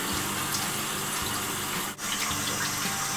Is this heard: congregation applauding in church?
no